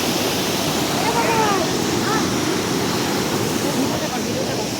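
Cold mountain water rushes steadily in Sikkim, a loud, continuous broadband roar like a waterfall or stream, constant throughout with no distinct breaks.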